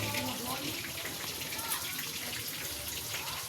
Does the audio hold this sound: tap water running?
yes